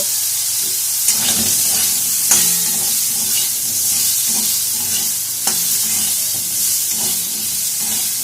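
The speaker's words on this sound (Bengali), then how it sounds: "আস্তে আস্তে করে আলুগুলোকে ভেজে নিতে হবে" Steady sizzling of potatoes frying slowly with salt and turmeric in a pan, with occasional scrapes and stirs of a spatula; no voices.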